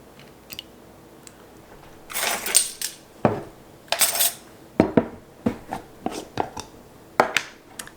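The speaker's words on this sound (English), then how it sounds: "So I'm going to put 1 egg white in my bowl here." An egg white goes into a bowl amid a busy string of clinks, clatters and taps of shells and utensils against the dish, close and fairly loud with no talk.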